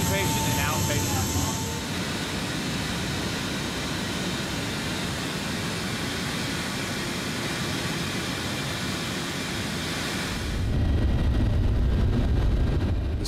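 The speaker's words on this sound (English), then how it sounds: "The C-17 flies a classified approach." C-17 military transport aircraft in flight, making a steady loud broadband engine roar that holds for most of the stretch, then shifts to a deeper, heavier rumble near the end.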